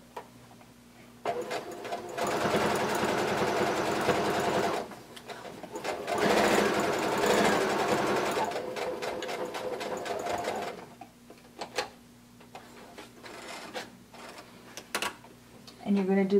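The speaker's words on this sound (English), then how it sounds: "we're going to sew it using a 1/4 inch seam allowance" A sewing machine stitches a pocket onto a blanket coat with a quarter-inch seam, running in two long steady bursts separated by a brief pause, then stopping into quiet with faint handling sounds.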